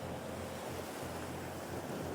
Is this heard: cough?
no